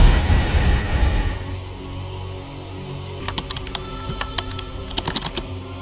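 Keyboard typing in an empty office, as a sound effect in a radio ghost story: after a fading low rumble, sharp key clicks come in quick irregular bursts, close and distinct, with no talking.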